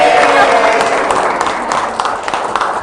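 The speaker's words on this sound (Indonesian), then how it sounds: "beri tepuk tangan" Applause from a crowd at a live talk-show event on tourism and creative economy, dense and fairly loud at the start and thinning gradually, with a voice faintly under it.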